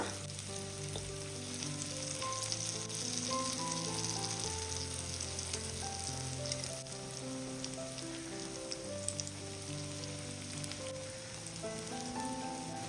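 Chocolate unniyappam fry in hot oil in a steady, soft bubbling sizzle that carries on alone throughout, with occasional faint pops.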